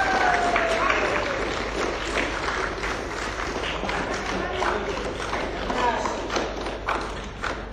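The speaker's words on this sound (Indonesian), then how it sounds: "Marilah berikan aplaus yang luar biasa untuk Putri Sulistyaningsih." An audience applauds at a motivational business seminar, giving a steady, dense round of clapping that holds at a moderate level from start to finish.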